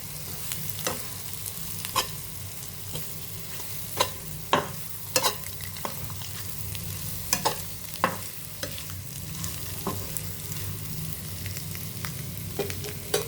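Eggs fry in a pan with a constant sizzling bed, broken by frequent sharp scrapes and taps of a spatula stirring them, all close and without talk.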